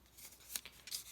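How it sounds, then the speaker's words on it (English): Scissors snip through paper ephemera for a craft journal, with a couple of short, faint cuts standing out against a quiet room. "I'm going to go ahead and cut these"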